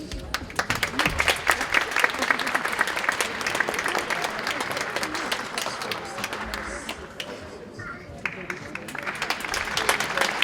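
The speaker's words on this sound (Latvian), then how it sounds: "Aplausus, aplausus." An audience at an event in Latvia claps steadily for the whole stretch, a dense crackle of many hands that eases briefly and then swells again.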